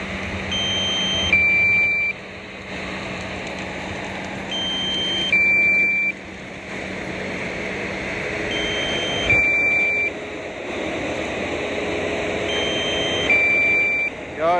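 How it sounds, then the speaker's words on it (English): Reversing beeps from a John Deere skidder on a logging site sound in short repeating bursts about every four seconds, moderately loud over a steady outdoor rumble and wind. "Y'all ignore the beeping."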